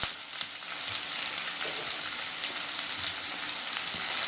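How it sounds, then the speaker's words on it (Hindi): Chopped onions and cashews frying in hot oil, a loud continuous hiss and crackle with faint stirring, close by and without speech. "अब मैं इसमें प्याज डाल दूँगी जो हमने काट के रख दी थी। साथ ही हम इसमें डालेंगे काजू।"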